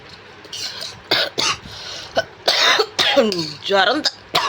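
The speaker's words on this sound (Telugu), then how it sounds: "ఈ దగ్గు తగ్గట్ల." Several harsh coughs from a person with a cold break out in short bursts, close and fairly loud, mixed with brief stretches of talking.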